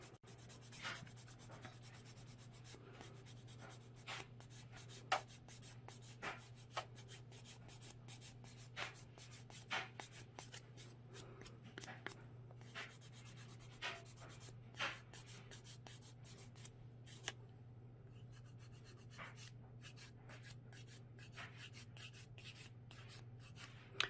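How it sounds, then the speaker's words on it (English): A fine to medium grit nail buffer rubs over fingernails in quick, quiet back-and-forth scratchy strokes, close and soft, repeating continuously without any talking. "take the fine to medium grit and just buff up the surface of your nails a little bit"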